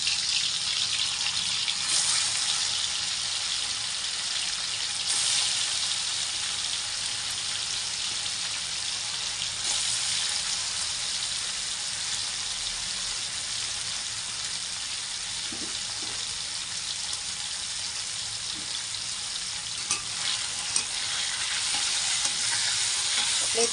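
Paneer frying in oil in a kadhai gives a strong, continuous crackling sizzle, with occasional soft stirring knocks and scrapes throughout.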